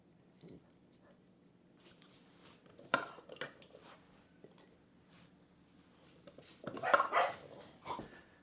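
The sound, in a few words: dogs barking at a UPS delivery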